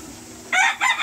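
Chickens and a rooster in a backyard chicken coop: low clucking murmurs give way to two loud, close bursts of crowing.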